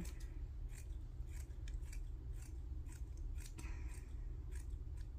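Scissors snip through a piece of cheesecloth in a quick series of light, crisp cuts at close range, each snip brief and evenly spaced over a quiet background.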